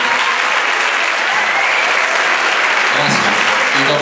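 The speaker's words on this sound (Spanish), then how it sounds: "por favor, un fuertísimo aplauso" Loud, dense applause from the audience at a school rondalla concert, a gathering of rondallas at IES Alonso Pérez Díaz, with sustained clapping filling the whole stretch without a break.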